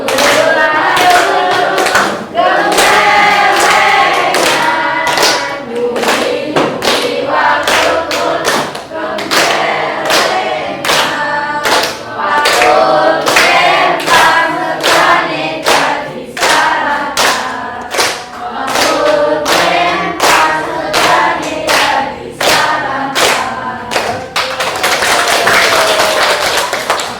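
A class of students claps in a steady, even beat while singing the Indonesian children's song Gundul-gundul pacul together, the sharp claps running loud and continuous for the whole stretch.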